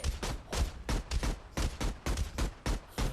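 Gunfire in the video game Cyberpunk 2077: a fast, sharp series of about a dozen loud shots in quick rhythmic bursts, close and punchy, with no talking.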